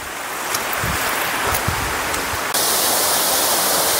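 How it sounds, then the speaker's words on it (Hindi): Water falls from rocks inside a cave like a small waterfall, making a loud, steady rushing hiss throughout with no voices. "ऊपर से पानी भी इसमें आ रहा है जो यहाँ पे आके वाटरफॉल की शक्ल में गिर रहा है ये।"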